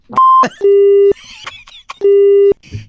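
Loud repeated phone busy-signal beeps after a hang-up on an FM radio call, three long electronic tones with short gaps between them, with brief noises in the pauses.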